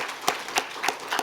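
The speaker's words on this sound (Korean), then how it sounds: "우리 자녀들 또 환영하면서 박수로 또 격려하겠습니다" A church congregation claps to welcome and encourage the children at a Friday healing prayer service, giving four sharp, evenly spaced claps that stand out clearly over a quiet room.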